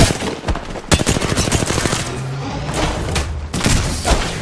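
Loud, rapid automatic gunfire bursts in Apex Legends, dense rattling volleys with sharp individual cracks and brief pauses between strings of shots.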